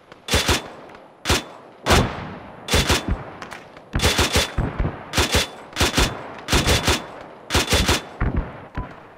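Arma 3 gunfire comes in repeated loud bursts of automatic fire, each a rapid string of sharp cracks separated by short pauses, steady and close with no talking.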